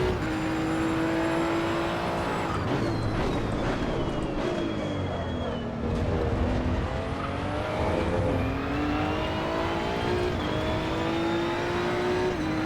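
A Maserati GT2 race car engine revs in the Assetto Corsa EVO racing game, a loud continuous drone rising and falling through gear changes with brief dips and tire noise, steady throughout.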